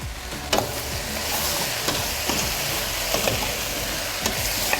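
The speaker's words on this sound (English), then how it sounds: "We want to continue sauteing this for 2 minutes and then we're done." Food sautéing in a pan with salt and black pepper, a loud continuous sizzle with small pops and clinks of stirring throughout, no voices.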